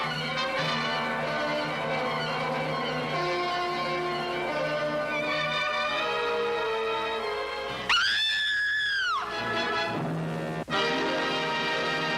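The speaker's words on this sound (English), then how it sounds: "that scream at the end as you saw the flying saucer" A scream from a flying saucer movie rises sharply near the end of the clip, loud and sustained for about two seconds before cutting off, over dense orchestral music with no talk.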